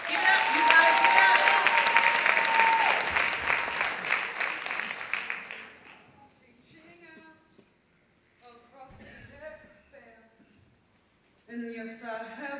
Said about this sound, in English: please give a round of applause for Jennifer Queen Moore